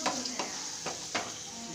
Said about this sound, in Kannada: ಅದಕ್ಕೆ ಇದು ಒಗ್ಗರಣೆ ಟೊಮೊಟೊ ಈರುಳ್ಳಿ